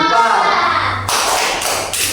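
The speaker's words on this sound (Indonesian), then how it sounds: "Tepuk tangan untuk kelompok 4." Students in a classroom clap for a presenting group, a burst of loose close applause with scattered taps following a spoken prompt and voices.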